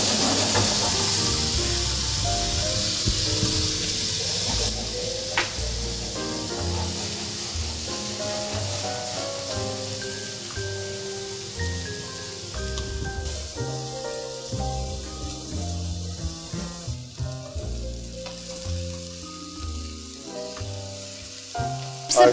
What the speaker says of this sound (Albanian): Edhe i lajmë të skuqe.